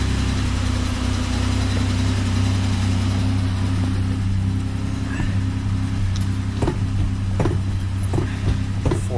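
A carbureted 1967 Suburban engine with an electric choke runs at a steady, loud idle close by, a constant low rumble, with a few clicks and knocks over it in the last seconds.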